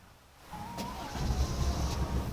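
An old first-generation SsangYong Rexton diesel SUV starts by remote. A faint lock chirp is followed by the engine cranking and catching into a low, rumbling diesel idle that grows steadily, heard from nearby outdoors.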